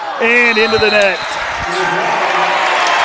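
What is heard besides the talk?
stadium crowd applauding volleyball point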